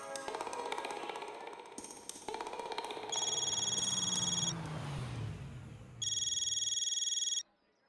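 A phone ringtone sounds in a domestic sitcom scene, with two bursts of steady electronic tone, one in the middle and one near the end, mixed with background music and voices before it.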